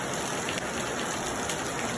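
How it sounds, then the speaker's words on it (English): Heavy rain pours down steadily in a continuous dense hiss with no break, loud and close throughout. "God, look at rain."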